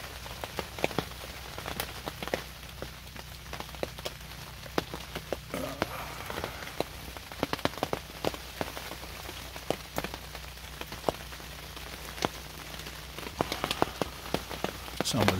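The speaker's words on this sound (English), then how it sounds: "afternoon hunt, and it is raining." Cold rain falls steadily on a hunting ground blind, dense patter and scattered sharper drops striking close by throughout, with a low constant hum beneath and no talking.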